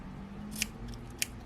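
Scissors snipping through crochet yarn strands, two quiet, crisp snips about half a second apart over a low background hum.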